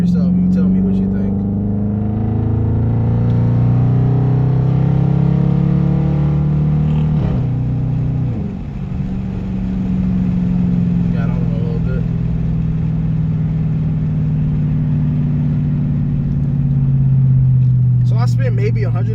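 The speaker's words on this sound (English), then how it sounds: "I put those new racing mufflers in the place of the resonators and kept the mid muffler delete" A Dodge Charger or Challenger with Dynomat mini racing mufflers in place of the resonators and a mid muffler delete rumbles with a deep, loud exhaust note, dipping briefly mid-way before settling back into a steady throaty drone.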